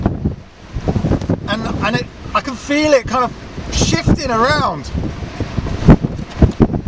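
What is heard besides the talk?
strong gusting wind around a car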